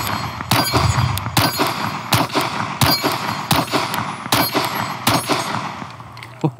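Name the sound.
gunshots from Springfield Armory Hellcat Pro 17-round pistol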